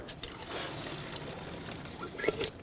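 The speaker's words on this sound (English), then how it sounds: "I'm going to put the rest in my overflow tank until the tank reaches the maximum fill line" Coolant pours into the overflow tank of a 2009-2013 Honda Fit radiator, a soft continuous trickle heard up close at low volume with a slight gurgle near the end.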